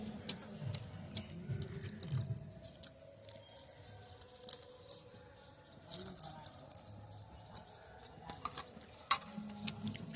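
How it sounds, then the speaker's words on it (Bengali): Water being squeezed by hand out of a soaked mass, giving wet dripping and splashing bursts into a basin at close range, repeated in irregular squeezes, with a person talking in between. "এবার জলটাকে এইভাবে চিপে চিপে বের করে শুকনো করে নিতে হবে"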